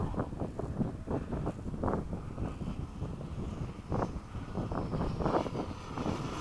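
Freewing 80mm MiG-21 RC jet flying at full throttle after sunset, a steady whooshing ducted-fan roar mixed with heavy wind buffeting on the microphone throughout.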